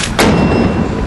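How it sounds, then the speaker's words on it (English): Mortar rounds fired during a live-fire exercise at Udari Range near Camp Buehring, Kuwait, with a single sharp, loud boom landing over steady background rumble. "Soldiers explosively hit the ground in Kuwait during a live-fire mortar exercise at Udari Range near Camp Buehring"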